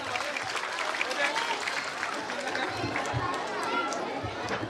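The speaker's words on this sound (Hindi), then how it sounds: "जोरदार इनके लिए तालियां हो जाए।" An audience at a school annual function claps in a sustained, even wash of applause, with crowd chatter mixed underneath and no single voice standing out.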